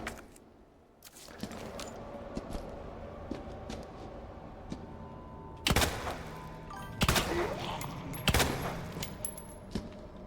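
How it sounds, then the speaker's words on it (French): Gunfire in the video game Resident Evil 2, set in the sewers of Raccoon City: a few sharp, loud shots spaced seconds apart, each with a short ringing tail, over a steady low game ambience. "Trois tirs, 3 dans la tête."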